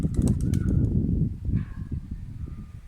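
Quick bursts of a pigeon's wing flaps clatter up close, then fade as the bird moves off, with a soft coo or call mixed in.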